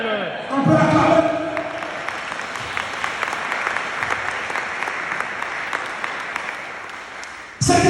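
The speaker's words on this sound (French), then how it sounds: "On peut l'acclamer." A church congregation claps and cheers together in sustained applause that swells at the start and holds steady for several seconds before fading.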